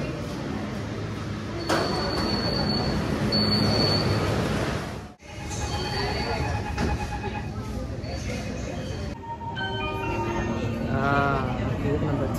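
Interior of an underground metro train on a ride: a steady loud rumble of wheels and motor fills the car, with a brief dropout midway and rising electric whine and squeal toward the end, while people talk over it.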